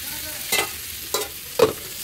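Eggs frying in a pan in a home kitchen, heard as three short sizzling bursts about half a second apart over a quiet background, with no voices.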